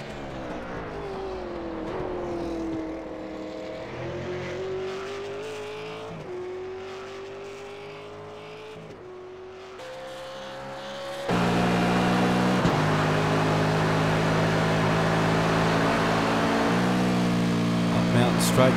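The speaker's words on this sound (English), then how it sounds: "you hear the rear of the car get a little bit loose, a little bit of a free spool, hard on the brakes, late turn in" A race car on a Bathurst shootout lap, its engine note loud and wavering as it brakes hard before a late turn-in, then a sudden louder, denser roar takes over for the rest, with commentary voices mixed under it.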